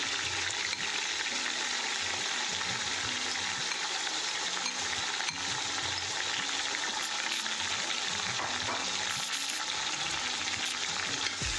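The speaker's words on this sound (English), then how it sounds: "And I'm now going to add in all my spices." Spices frying in a pot for a Durban-style chicken curry, a continuous close sizzle and crackle with occasional stirring scrapes, steady throughout with no talk.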